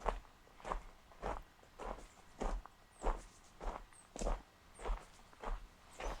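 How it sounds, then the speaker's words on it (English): Footsteps on a walk near a natural rock formation, a steady series of about ten paced steps, close and moderately loud, with no talking over them. "I don't know if I'm going to leave in these footstep sounds"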